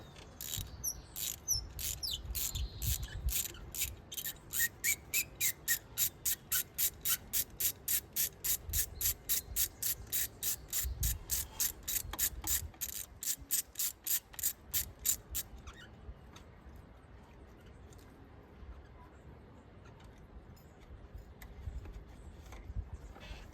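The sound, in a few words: ratchet removing spark plug from Ford Ranger 2.3 EcoBoost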